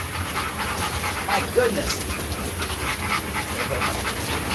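A dog pants rapidly and steadily up close after running, breathy rhythmic huffs continuing throughout, with a person briefly speaking over it.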